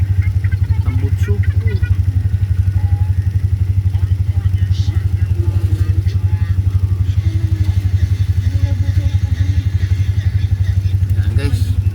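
A motorcycle exhaust throbs in a loud, steady, pulsing rumble close by on a road trip, continuing under someone talking, with occasional clatter.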